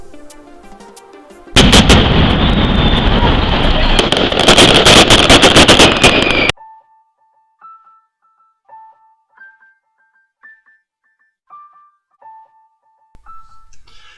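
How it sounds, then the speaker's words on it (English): Firecrackers burst at the Las Fallas festival in Valencia in a dense, loud crackling barrage for several seconds, then give way to quiet, sparse electronic beeps. "The air is thick with the smell of gunpowder and the sound of firecrackers."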